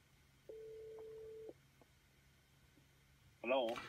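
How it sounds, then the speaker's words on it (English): A call tone plays through the speakers of a classic Mercedes-Benz car, one steady electronic beep lasting about a second, then quiet cabin hiss before a voice begins speaking at the end. "The phone is coming through the car speakers."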